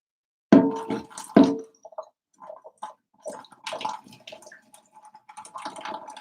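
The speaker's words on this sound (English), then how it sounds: "I'm going to pour this off." Cooking water poured off boiled jackfruit, starting with two sharp splashy gushes followed by a scattered run of trickles and drips, close and with no talking.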